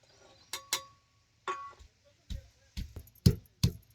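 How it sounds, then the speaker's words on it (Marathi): Garlic is crushed in a mortar and pestle with close, sharp, uneven knocks, about seven strikes in quick irregular clusters separated by brief quiet gaps. "आता या खलबत्यात फोडणीला जरा लसूण दुखून घेतो"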